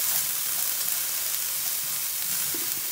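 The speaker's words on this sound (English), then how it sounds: "Let these onions saute and these thyme and peppers and onions and garlic, fresh garlic" Onions, thyme, peppers and fresh garlic sauté in a pan with a dense, continuous close-up sizzle that holds evenly throughout.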